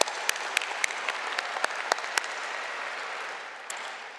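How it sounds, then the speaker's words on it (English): A large crowd applauds at a university new student convocation in Pittsburgh, a dense wash of clapping punctuated by a few sharp, close individual claps before slowly thinning out. "Let's give Ryan a round of applause."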